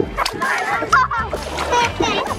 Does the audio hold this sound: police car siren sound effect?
no